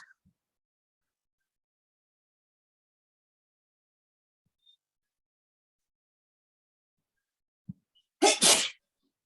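A single sharp sneeze bursts out near the end after near silence, close and loud, preceded by a faint breath or sniff.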